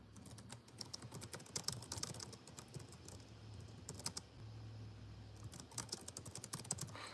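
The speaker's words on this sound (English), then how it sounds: "I'm gonna have to type this out real quick." Someone types on a computer keyboard at close range, with quick irregular bursts of clicks and key taps broken by short pauses, steady throughout the stretch.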